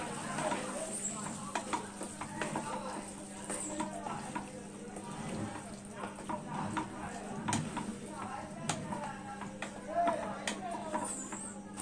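Chicken bharta with malai stirred in a pan, a steady scraping and stirring texture with soft sizzling underneath, close and continuous, with scattered clicks of the utensil against the pan throughout.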